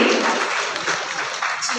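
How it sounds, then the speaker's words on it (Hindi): Applause rings out at a village fair, a brief burst of many hands clapping close by, dense and steady for under two seconds with no voices over it. "जोरदार तालियां एक बार उनके लिए।"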